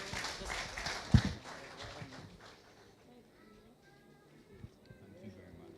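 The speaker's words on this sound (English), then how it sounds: "A round of applause for them, please" Brief applause from the audience at an Ideas Forum in the Glebe Pavilion, St. George, fading within about two seconds into a quiet room with scattered small sounds.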